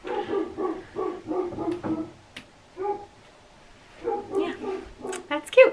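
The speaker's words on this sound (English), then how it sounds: "My dog's barking." A pet dog barks in a home on a snowy day, a series of short rhythmic barks and yips close by, pausing, then resuming with higher whimpering yelps.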